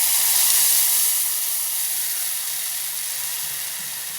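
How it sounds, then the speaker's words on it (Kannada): Tamarind juice hits a hot pan and sends up a loud, bright hiss of steam that is strongest at the start and then eases into a softer, steady sizzle. "ಹುಣಸೆಹಣ್ಣಿನ ರಸ ಹಾಕ್ತಾಯಿದ್ದೀನಿ."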